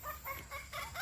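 Chickens cluck inside a cage at Hyderabad's Nehru Zoo Park, giving short repeated clucking bursts at a moderate distance with no one talking.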